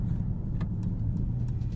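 A 2021 Mercedes-AMG GLS 63 drives along with a steady, low engine and exhaust rumble that stays even and close for the whole short stretch, with no talking over it.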